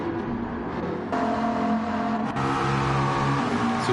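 Race car from Gran Turismo 7 on the Brands Hatch circuit sweeping past, a loud, steady engine whine rising in pitch and climbing through gear changes as it goes by.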